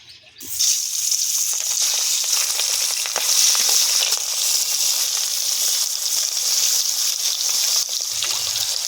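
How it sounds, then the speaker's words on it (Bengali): Ribbonfish pieces frying in hot oil in a kadai wok: after a short quiet start, a loud, continuous hissing sizzle sets in and stays steady, with no talking. "এবার আমি মাছটা ভেজে নেব।"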